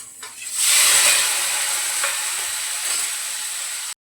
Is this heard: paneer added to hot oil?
yes